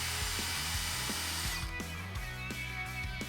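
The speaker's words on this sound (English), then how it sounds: "To install these feet onto your piece of furniture, first install a threaded insert." A power tool drives a threaded insert into a wooden furniture piece for lathe-turned feet, giving a steady close whirring drone broken by several short pitch drops and bursts, with no voices.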